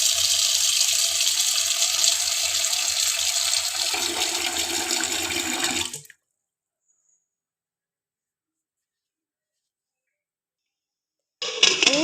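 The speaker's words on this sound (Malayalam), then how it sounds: "വെള്ളം ഒഴിച്ചു കൊടുക്കാം" Water pours steadily over tapioca pieces with rock salt in a pot, a close, continuous splashing gush lasting about six seconds, then silence until a short burst of sound at the end.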